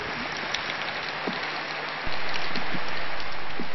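Steady rain pours outdoors onto a school notice board, a dense even hiss with scattered drop taps, growing noticeably louder partway through.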